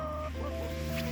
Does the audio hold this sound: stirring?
no